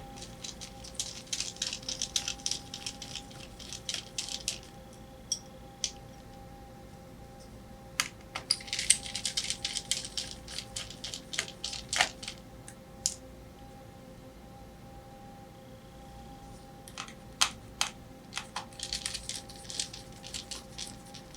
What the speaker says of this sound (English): I'm just going to go ahead and undo these screws.